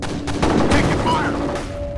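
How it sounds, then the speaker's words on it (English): Heavy gunfire in a F.E.A.R. combat firefight, dense overlapping shots and bursts filling the scene continuously, with a voice calling out underneath the racket. "Taking fire!"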